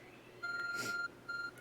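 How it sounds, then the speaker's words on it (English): Two steady electronic beeps sound during a Pokemon Legends Arceus play session: a longer tone, then a short pause and a shorter repeat. The beeps are clear and moderately loud over a quiet background. "There's a glowing, beeping object over there."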